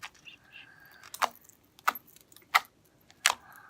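Slime being squished and worked by hand gives four sharp, close clicks spaced roughly evenly, with faint wet squelching between them and no talking.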